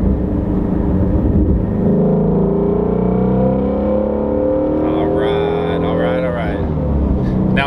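A Shelby GT350 engine revs hard and climbs steadily in pitch toward its 8,250 rpm limit, a loud, continuous close-up roar that holds for several seconds before easing off.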